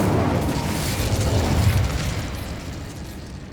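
The Incendio fire spell bursts in Hogwarts Legacy, a loud, whooshing, rumbling blast that hits at once and then slowly dies away into a softer roar.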